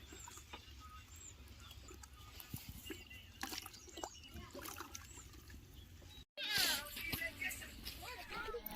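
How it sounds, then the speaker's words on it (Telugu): Water is poured for washing chicken, trickling and dribbling softly at first, then splashing noticeably louder after a brief silent gap. "కోరి క్లీన్ చేసుకునే దానికి చాలా నీళ్ళు తీసుకుందాం."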